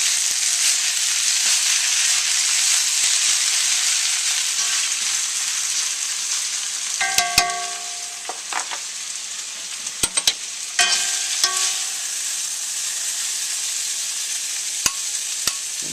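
Instant ramen, pork, shrimp and vegetables fry in a wok with a steady bright sizzle, broken midway by a cluster of clinks and scrapes as the food is stirred.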